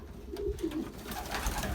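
Belgian racing pigeons, a loft of twelve widower cocks, coo in low rolling phrases close by, with a steady murmur of several birds overlapping and no voices.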